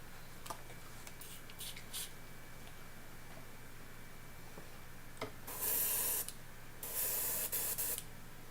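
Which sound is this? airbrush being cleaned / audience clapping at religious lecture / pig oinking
airbrush being cleaned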